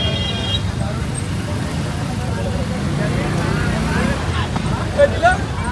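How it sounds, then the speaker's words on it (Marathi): A road traffic jam near the Mahalaxmi fair in Dahanu, with a steady low rumble of idling vehicles and soft crowd babble underneath throughout. "ट्रॅफिक आहे महालक्ष्मीच्या ट्रॅफिक जाम आहे."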